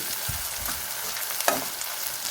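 Ginger garlic paste with turmeric frying in a pan for chana pulao, with steady soft sizzling and a few scraping stir strokes close by, no voices.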